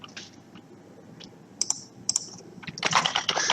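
Quick plastic clicks of a computer keyboard as a customer types an incident ticket summary into a service desk portal, starting as sparse isolated taps and building into a dense, rapid run of keystrokes near the end.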